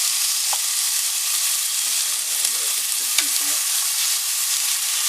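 Pierogies with oyster mushrooms and half a Spanish onion frying in a pan over high heat, a steady close sizzle running throughout with a few faint stirring scrapes.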